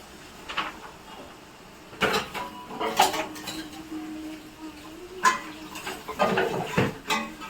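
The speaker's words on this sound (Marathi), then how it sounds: "भांडे घसरले" Metal pots and utensils clatter and clank nearby, with several sharp bangs and scraping slides spaced irregularly over a quiet kitchen background, no speech.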